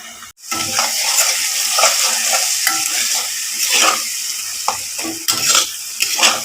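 Spice paste sizzles in hot oil while a utensil stirs and scrapes it around the pan, giving a steady close frying hiss broken by repeated stirring strokes.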